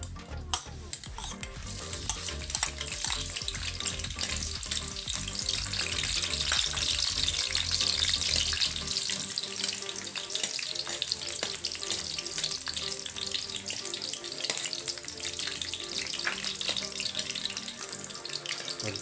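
Garlic fries in hot oil for Filipino pancit canton guisado, a dense continuous crackling sizzle close by that stays loud throughout and eases slightly about halfway through.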